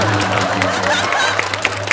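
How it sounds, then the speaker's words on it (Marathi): Audience at a Marathi stage comedy show applauding, dense loud clapping that continues steadily throughout with a murmuring crowd underneath. "अहो हे खूप झालं टाळ्या"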